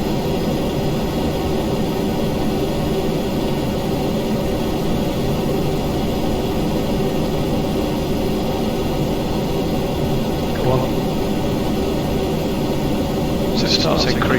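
A spacecraft engine in a video game thrusts as a steady, loud broadband roar that holds evenly throughout, with a few faint tones sounding briefly near the end.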